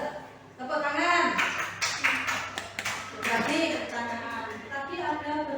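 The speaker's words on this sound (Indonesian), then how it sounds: "Tepuk tangan." A class claps hands together in a short rhythmic burst, with sharp claps in the middle of the clip. Voices speak and chant alongside the clapping.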